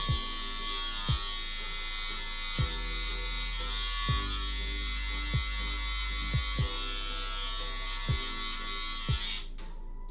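Electric hair clippers buzz steadily through a taper fade haircut, a constant motor drone broken by about ten short clicks or bumps spaced across the cut, with no voices.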